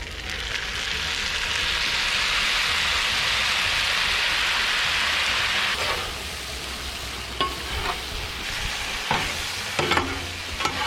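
Cooked pulled pork warming with sauce on a Blackstone griddle, a loud rushing sizzle for the first half that then settles lower, punctuated by scrapes and clanks of a spatula on the flat top.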